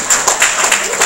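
A church congregation claps together in a brief burst of steady, dense applause, loud and close, under a bright ringing tone.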